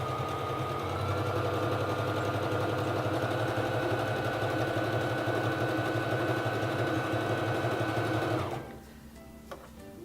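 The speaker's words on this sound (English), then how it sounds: "Lower your presser foot and begin sewing." A Singer Fashion Mate 3333 sewing machine running a zigzag stitch, a steady, loud mechanical whirring hum with rapid needle rhythm for about eight seconds before it stops abruptly into near silence.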